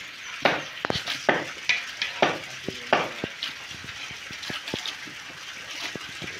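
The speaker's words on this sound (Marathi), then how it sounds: "आता आपण आतडी कोथळ्याचा भाग जो बारीक केला एकदम तो टाकायला चालू आहे।" Finely chopped mutton intestines stirred in a hot pan, with steady sizzling and frying under repeated sharp knocks and scrapes of a spatula against the pan, close and fairly loud, with no talking.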